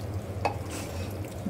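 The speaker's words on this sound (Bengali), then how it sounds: "এখন এটা আমি সুন্দর করে একটু মাখা মাখা ভাজা ভাজা করে নামিয়ে ফেলবো।" Beef tripe and potatoes fry in a pan, giving a soft, steady sizzle with a brief scrape of a spatula partway through.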